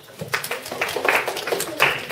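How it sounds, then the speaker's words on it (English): An audience at an entrepreneurship boot camp session gives a short round of applause, a few uneven claps rising and falling over about two seconds, fairly soft with some voices mixed in. "a round of applause for Palak"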